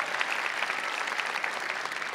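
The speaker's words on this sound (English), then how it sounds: "Yeah, probably deserves some round of applause." Graduation audience at Valle Verde Early College High School applauding its principal, a steady, dense wash of many hands clapping throughout with no pauses, fairly full and close.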